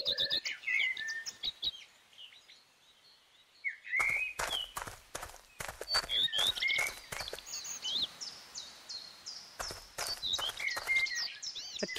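Birdlike chirps and tweets in a video game scene beside a pigeon cage, bright repeated calls scattered over steady rapid tapping and shuffling sounds, fairly close, with no talk.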